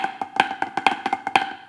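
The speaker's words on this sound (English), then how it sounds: "And perhaps your Chutichus sound like this?" Close snare drum plays the Chutichus rudiment, a short run of quick strokes with sharp accented flams landing at regular points, heard alone with no voice.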